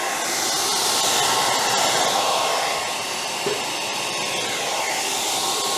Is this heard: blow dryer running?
yes